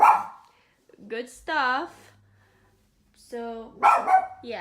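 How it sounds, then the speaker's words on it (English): A pet dog barks and yips a few times in a bedroom, with sharp calls broken by pauses and mixed with a person talking nearby. "that's my dog barking"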